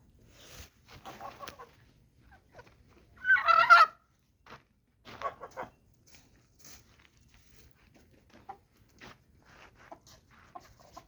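Domestic poultry kept together in one space, a loud turkey gobble bursting out amid scattered clucks and soft scratching footsteps, with quiet gaps between calls.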